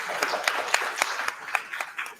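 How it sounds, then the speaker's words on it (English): An audience at a panel discussion on indigenous artists at the Kalamazoo Institute claps for the panelists, fairly soft, with distinct individual claps standing out in a brief, loose round. "Can I get another round of applause for Dan"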